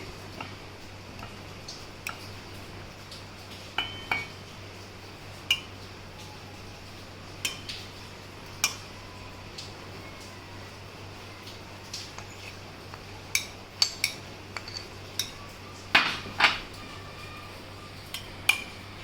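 Cut mango pieces dropped into a jug, giving scattered small clinks and taps with a few louder knocks toward the end, quiet and close over a low steady hum, with no talking.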